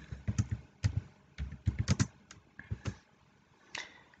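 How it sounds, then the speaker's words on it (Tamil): Keys clatter on a computer keyboard as a name is typed into an online RTI application form, with irregular bursts of close, crisp taps separated by brief pauses. "உங்களுடைய நேம் கரெக்டாக டைப் பண்ணிடுங்க"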